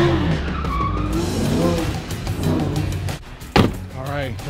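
A Lamborghini Huracan skids with screeching tire squeal over a loud engine, close up, with a sharp thump partway through.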